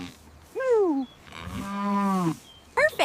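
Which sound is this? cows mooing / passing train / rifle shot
cows mooing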